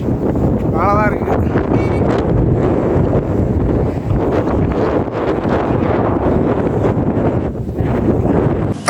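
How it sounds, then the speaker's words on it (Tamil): Strong coastal wind at Dhanushkodi buffets the microphone in a steady, loud roar that lasts throughout, with a brief voice near the start. "நீங்கள் பாருங்கள், காற்று வேறு மாதிரி அடிக்குது."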